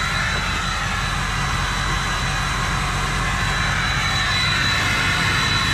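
Inside the cab of a 2005 Ford F250 diesel 4x4 truck, the running engine gives a steady, loud, broadband roar that sounds like a jet airplane, unbroken from start to finish.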